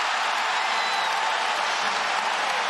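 A basketball arena crowd roars and applauds after a layup and an and-one in a Kansas college game, a dense, steady wall of cheering with no pauses.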